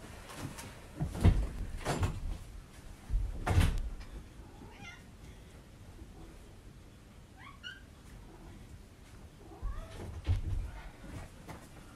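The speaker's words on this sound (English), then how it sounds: "Oh, this bloody cat." A domestic cat meows a few times, short faint calls against quiet room noise, along with some louder knocking and thudding bumps like a cupboard or door.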